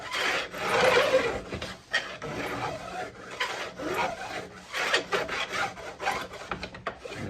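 A metal file rasps back and forth along guitar frets while dressing them, skidding on the binding in repeated close, scratchy strokes with an uneven rhythm.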